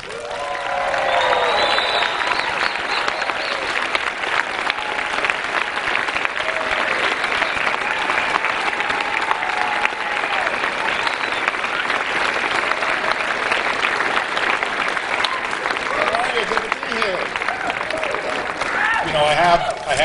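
Sustained audience applause welcoming actor Vince Vaughn on stage at a Campaign for Liberty event, a dense, even wash of many hands clapping that continues steadily for about twenty seconds without a break.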